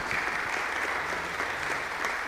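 An audience at a talk comparing lager yeast fermentations bursts into steady applause, a thick, even wash of many hands clapping fairly close, continuous throughout with no voices over it.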